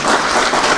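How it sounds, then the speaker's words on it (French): A brief, dense burst of audience clapping at a general assembly of the Cameroonian football federation, loud and close, filling the room without speech. "ça mérite beaucoup plus d'applaudissements"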